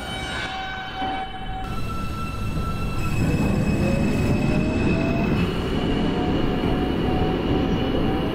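An R160A M subway train in the openBve simulator runs steadily along the track with continuous rumbling wheel and motor noise, rising louder partway through, with thin tonal whines and faint squeals over the roar.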